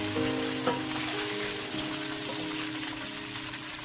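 Chicken frying in a pan, a dense, continuous sizzle and crackle of hot oil, steady and close, with faint stirring clatter and no talk.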